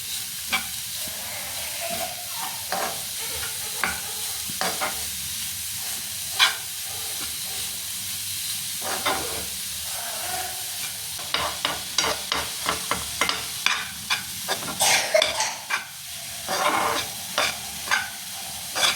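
A spoon scrapes and stirs gobi paratha filling with garam masala in a hot pan over a soft steady sizzle, the close, irregular strokes growing quicker and denser toward the end.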